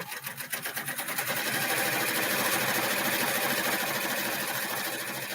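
An embroidery machine on a MasterHoop hooping station stitches lettering, a fast steady mechanical chatter that starts up and then runs loud and close without pause.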